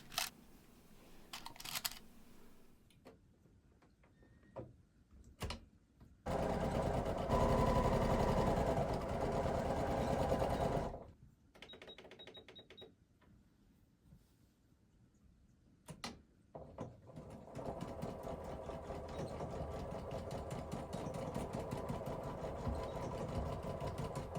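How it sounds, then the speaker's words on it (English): Sewing machine stitching a half-inch seam on trouser pockets, reinforcing at the notch: short bursts of running motor, then a long loud run of stitching, pauses with small clicks, and another sustained run. "sew with a 1/2 inch seam allowance, and I'm going to reinforce at the notch"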